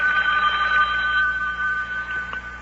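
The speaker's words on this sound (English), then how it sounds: "Oh, telephone's ringing." An old telephone bell rings steadily and loudly in a room, a sustained metallic trill lasting throughout with no talk over it.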